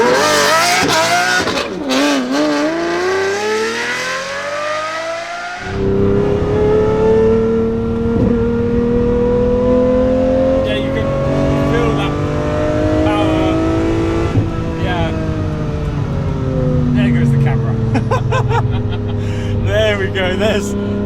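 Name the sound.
Lamborghini engine accelerating while driving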